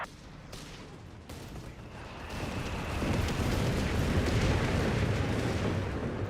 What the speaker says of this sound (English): Frag bombs are on the way.